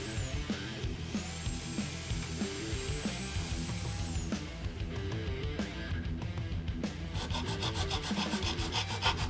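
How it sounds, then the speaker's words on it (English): Ridges inside an adapter for a life-sized Halo: Reach turret prop being filed down, continuous scraping rasp strokes, close, partly under background music, faster rhythmic strokes toward the end. "I just had to take those down with the file"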